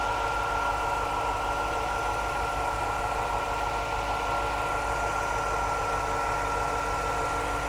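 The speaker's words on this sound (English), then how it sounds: "That engine is so smooth." A 1993 Chevrolet Corvette convertible engine idles steadily and smoothly, rumbling continuously with a constant low hum and a faint mid-range tone, no voices present.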